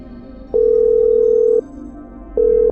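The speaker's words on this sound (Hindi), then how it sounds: "शर्मा जी को फोन मिला और मेरी बात करा।" Telephone ringback tones heard while a call is being placed, two steady beeps with a pause between them, loud and clear with no talking.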